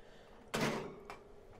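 The doors of an air fryer are shut with a sharp thud, followed by a smaller second click about half a second later, in a quiet kitchen.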